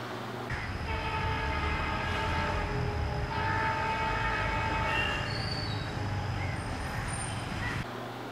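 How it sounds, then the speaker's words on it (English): Indian Railways electric and diesel locomotives, a WAP7 and a WDP4, running side by side at Malleswaram: a steady loud rumble of wheels and engines with sustained horn tones and high wheel squeal throughout, no talk. "electric and diesel parallel action at Malleswaram."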